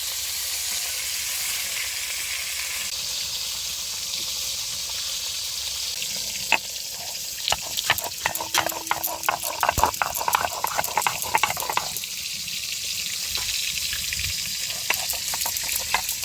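Pieces of snakehead fish fry in hot oil in a pan, a steady hissing sizzle throughout with a stretch of sharper crackles and clatter in the middle.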